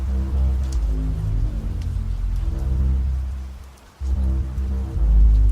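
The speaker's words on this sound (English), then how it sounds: "rain, like diamonds on your windshield, flicks and flecks" Rain pattering steadily on a car windshield, a dense continuous wash of drops close by with a brief dip before resuming, no voices.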